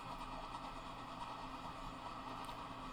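A coal train in Transport Fever 2 rolling through a tunnel at about 23 mph gives off a steady, enclosed rumble and low mechanical drone at an even level, with no voices.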